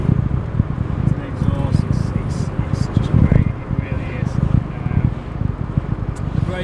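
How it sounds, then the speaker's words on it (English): A Classic Mini's exhaust rasps while driving, a close, throaty rumble with wind noise over it and someone talking throughout. "That exhaust just sounds great. It really does. Get a nice rasp to the."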